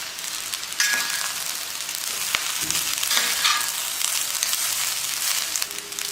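Egg fried rice is stirred and fried in a hot pan with vegetables and egg, giving a continuous close sizzle broken by scraping and tossing strokes, with no talking.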